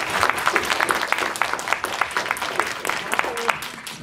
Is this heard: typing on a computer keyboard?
no